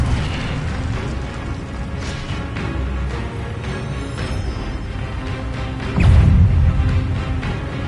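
A fire spell explosion from Hogwarts Legacy, heard as a steady roar of rumbling noise that swells into a heavier, louder blast near the end.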